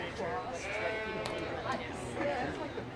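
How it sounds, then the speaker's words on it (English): Sheep bleat repeatedly at a livestock show ring during judging of yearling ewes, wool types, with a crowd chattering and a voice talking underneath the steady calls. "Next in the ring will be Class 4 yearling ewes."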